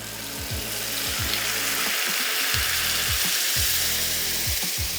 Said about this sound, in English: now is the time to add our gorgeous creamy onion paste.